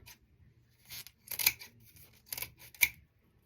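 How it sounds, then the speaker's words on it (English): Scissors or a blade slicing open a long dried loofah gourd to make a sponge, giving several crisp rasping cuts in short bursts, close and moderately loud, with no talking. "we're gonna cut it into the side"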